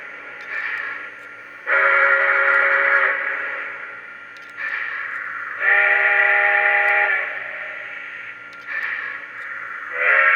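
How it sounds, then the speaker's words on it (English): Lionel Great Northern Pacific USRA model steam locomotive sounding a deep mountain steam whistle, repeated in several sustained chord-like blasts with short gaps, loud and close with no talking. "I like that deep mountain whistle the best"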